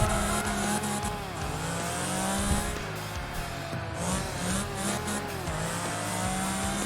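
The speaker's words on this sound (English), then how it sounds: "My little orange McLaren." An orange McLaren race car in Project Gotham Racing 3 revs hard, its engine note repeatedly rising and falling through gear changes, loud and close with a brief tire squeal.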